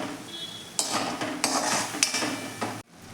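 Ground masala paste is stirred and roasted in a pan over medium heat, with a few scraping clatters of a spoon against the pan over a constant frying hiss, close and steady, ending abruptly.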